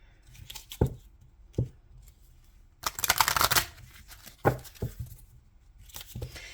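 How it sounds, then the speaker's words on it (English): Tarot cards shuffled by hand in irregular bursts of riffling and soft slapping, with a dense longer shuffle in the middle, close and clear with no talking. "quickly shuffle out the other ones"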